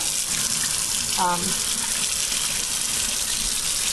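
Tap water runs steadily over a pork tenderloin being rinsed in a kitchen sink, a loud continuous splashing rush with a brief voice faintly audible beneath it.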